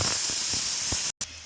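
Cumin, crushed pepper and garlic sautéing in oil in a pan for pink okra sabji, a loud steady close hiss of sizzling with a brief cut-out near the end.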